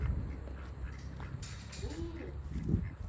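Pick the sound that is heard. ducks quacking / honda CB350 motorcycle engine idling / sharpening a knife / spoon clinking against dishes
ducks quacking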